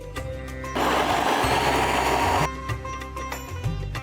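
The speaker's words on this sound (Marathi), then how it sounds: "एकदा आपण फूड प्रोसेसर मधनं फिरवून घेऊया" A food processor whirs loudly for under two seconds, grinding cardamom and nutmeg into powder for a Diwali sweet, with a steady motor hum before and after the burst.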